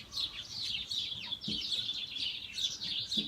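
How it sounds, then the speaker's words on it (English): Several small birds chirp and tweet in quick, overlapping calls, fairly soft and a little distant, continuing throughout without a break. "birds are going crazy at the minute"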